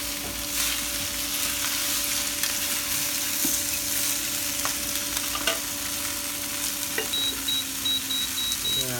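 Seafood glass noodles stir-frying in oil in a pan, a steady sizzle with scattered scraping and stirring clicks, a brief voice in the background.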